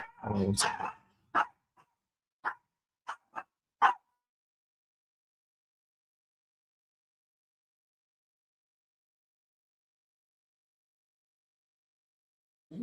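A dog set off by a doorbell barks in a quick burst of several yips and barks, close to the microphone, then falls into long silence.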